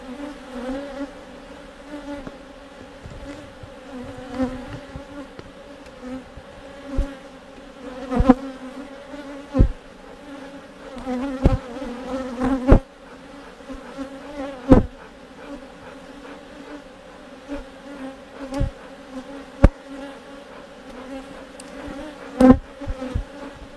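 Honey bees buzz steadily around an open brood box, a close continuous drone broken by sharp knocks and clicks of hive work, with no talking.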